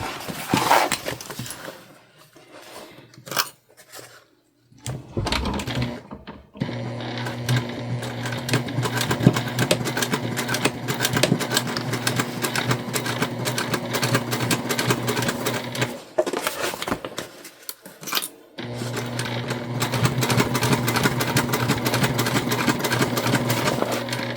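A Juki TL2 sewing machine bastes fabric for a drawstring backpack in loud, steady, rapid stitching runs, broken by a few short pauses, with no voices.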